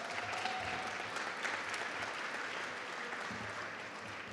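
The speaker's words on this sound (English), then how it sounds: "I think that deserves a round of applause" A crowd applauding at a building topping-off ceremony, a steady wash of clapping heard from a distance, fairly soft and sustained throughout.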